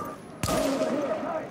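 A single sharp gunshot bursts out in a Tom Clancy's The Division firefight in New York, loud and close, trailing into a ringing tail with faint game tones behind.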